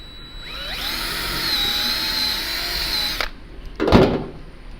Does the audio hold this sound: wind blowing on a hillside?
no